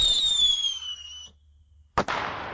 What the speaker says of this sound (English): I'll download the sound of a firework there.